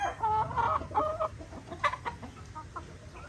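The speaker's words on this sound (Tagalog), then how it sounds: "Ito yung Kelso namin. Kelso Stag White Pit." A Kelso White Pit stag rooster clucks close by in a series of short, throaty calls, loud at first and then sparser and quieter.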